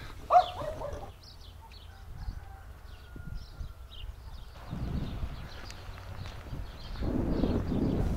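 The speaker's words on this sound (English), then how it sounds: "Their dogs do like to yap." Dogs in a Moldovan village yap and bark in short, scattered bursts at a moderate distance, mixed with footsteps on a path and outdoor ambience.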